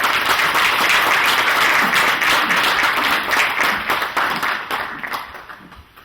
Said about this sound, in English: Please join me in giving a round of applause to Miss Lubers and Miss Folk.